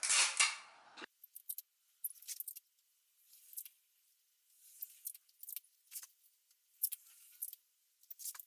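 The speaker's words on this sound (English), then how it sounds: "I'm gonna use some sticky tape and stick the pages together" Sticky tape is pulled off the roll with a loud rasping rip to join paper sewing-pattern pages, then quiet, irregular crinkles and small clicks follow as the tape is pressed onto the paper.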